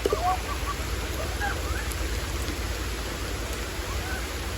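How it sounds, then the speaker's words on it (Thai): Heavy rain pours down in a dense, steady hiss at close range, with faint scattered chirps above it and no clear speech. "ทุกคนตอนนี้นะฝนตกหนักมากเลยนะคะ"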